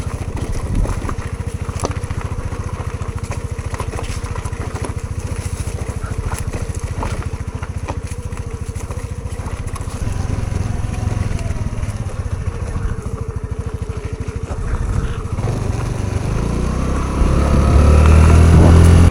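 A Honda Navi motorcycle ridden offroad, its small engine droning steadily under rushing wind and the crunch of terrain, the engine note swelling louder near the end.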